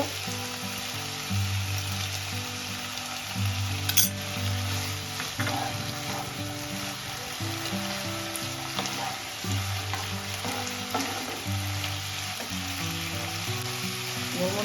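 Chicken momo filling of boiled chicken with soy sauce cooking in a pan, a soft continuous sizzle with occasional stirring clinks and one sharper tap, no voices.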